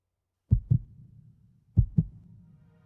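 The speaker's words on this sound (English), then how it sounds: "They always start with that heartbeat." A heartbeat opens a song: two quiet, deep double thumps, lub-dub pairs about a second apart, in otherwise near silence.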